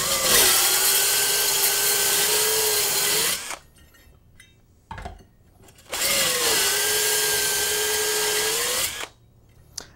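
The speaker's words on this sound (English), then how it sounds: "If it does require a little something extra, you can hone it out." A power tool hones out the inside of a small vacuum reaction chamber cathode, running in two loud, steady bursts of whining grind, each about three seconds, separated by a quieter gap with brief clatter.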